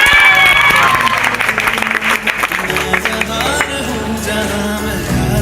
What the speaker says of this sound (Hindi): बढ़ा दो हौसला तालियों से